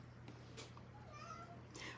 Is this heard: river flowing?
no